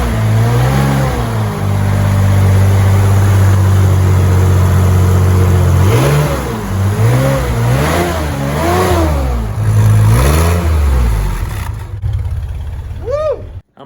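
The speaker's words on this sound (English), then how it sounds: "How much do you love the sound of a Tucker motor?" A 1948 Tucker Torpedo engine idles loudly and close, then revs repeatedly in rising and falling bursts before easing off near the end.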